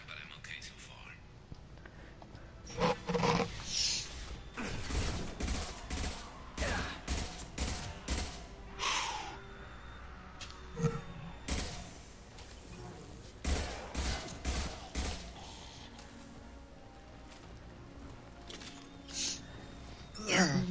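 Bursts of gunfire from the Mass Effect Legendary Edition video game, played on PC with a controller, crackle in repeated volleys across the clip, some loud and close, others lighter, with a voice talking over them.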